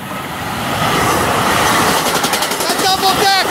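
A New Jersey Transit double-decker train rushes past eastbound in the early morning, a loud close roar that builds over the first second and holds steady, with rail clatter and squealing wheels toward the end.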